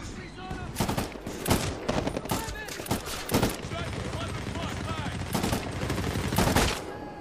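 Repeated gunfire in the Medal of Honor: Warfighter game, sharp loud shots and bursts in an irregular rhythm, with a player talking between them.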